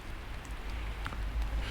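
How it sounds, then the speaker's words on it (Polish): Winter rain and gusting wind at a riverside during January spinning fishing: a steady, even wash of rain noise over a deep, constant wind rumble, with no talk. "Pada ten deszcz, wieje do tego."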